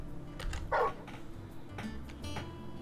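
A dog in Final Fantasy XVI gives a few short, fairly close barks and yips, one sharp bark standing out over faint background ambience.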